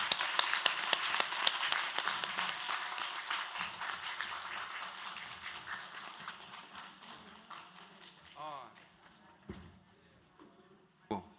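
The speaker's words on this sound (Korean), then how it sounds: "발표자 세 분께 박수로서 마무리하겠습니다" Applause from the seated audience closing a three-hour Korean history seminar, thanking the keynote and three presenters. Moderate clapping thins over several seconds, with a few voices and scattered sounds near the end.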